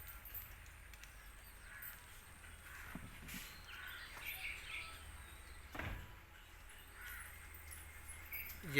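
A crow caws near its nest in the trees, a few faint, distant calls rising over a steady outdoor background hiss.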